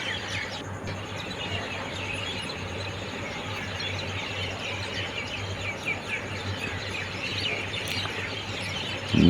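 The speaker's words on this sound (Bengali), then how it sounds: "নানান রকমের বিভিন্ন রঙের বদ্রি পাখি।" Budgerigars in a zoo aviary at Nandankanan chirp continuously, with a busy mix of small tweets and squeaks under steady background noise.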